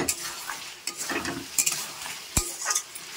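Meat with a whole garlic bulb is sautéed and stirred in a pan, giving a soft crackling sizzle broken by scraping spoon strokes and one sharp knock against the pan.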